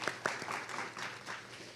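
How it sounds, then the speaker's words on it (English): Brief applause from a small group at a school board meeting, a few sharp claps at first then a soft, steady patter, moderately distant. "we'll give them a round of applause too"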